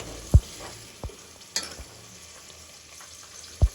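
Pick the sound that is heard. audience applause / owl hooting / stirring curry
stirring curry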